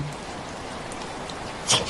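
Heavy rain falls outside as a steady, even hiss with no speech, swelling briefly louder just before the end.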